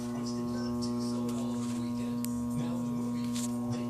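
An 1800-watt microwave oven transformer salvaged from a microwave, running with no load, gives a steady, loud mains hum with strong even overtones that continues unbroken throughout.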